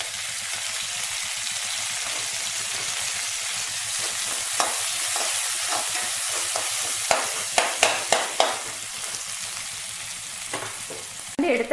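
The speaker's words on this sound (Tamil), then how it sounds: "பூண்டு லைட்டாக ஃப்ரை ஆனால் போதும் இது கூட கொஞ்சமாக கருவேப்பிலை கொத்தமல்லி சேர்த்துடலாம்" Garlic and curry leaves fry in a pan for a mutton curry with a loud, steady sizzle, and a run of sharp spoon clinks and scrapes comes toward the end.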